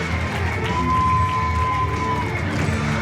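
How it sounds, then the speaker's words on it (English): Wrestling crowd at the Stronghold cheering and roaring loudly in a continuous wash of shouts and whoops, with a commentator's voice underneath. "I can't even hear you over this crowd."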